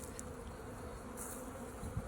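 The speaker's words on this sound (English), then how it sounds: "these bees are all just getting to know each other because they may have been from different hives" Honeybees buzz around a newly settled hive in a steady, close, moderately quiet drone, with no voices.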